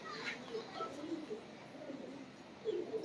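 Domestic pigeons kept by a pigeon fancier cooing in a few soft, low throaty bursts spaced across a few seconds, near but quiet, over a light noisy background.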